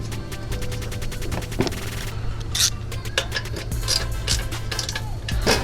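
A ratchet clicks rapidly and repeatedly while tightening a nut during a cold air intake install on a 2025 Toyota Camry Hybrid 2.5L, a close, sharp series of clicks in bursts over a low background hum.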